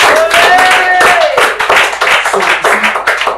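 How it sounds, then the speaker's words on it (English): A church congregation applauds during a service, with loud, close hand claps falling into an uneven rhythmic patter and voices calling out among the clapping. "Give the Lord a round of applause now."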